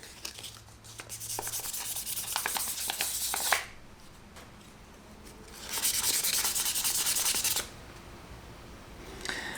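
Sanding a burnt titanium ARC shift knob by hand: close, scratchy abrasive rubbing in two sustained strokes separated by a quieter pause, without any talking.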